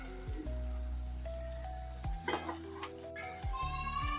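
Sizzling bottle gourd curry in a pan as milk is poured in, a continuous close frying hiss with occasional sharp crackles and a brief spatter, no talking.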